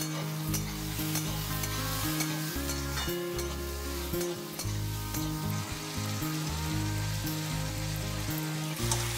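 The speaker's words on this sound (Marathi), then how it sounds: "आणि आता हे सगळं मिक्स करायचं आणि बटाटा शिजेपर्यंत वाट बघायची" Potatoes with salt and coriander fry in a pan and are stirred, a steady close sizzle with scraping stir strokes recurring throughout and no talking.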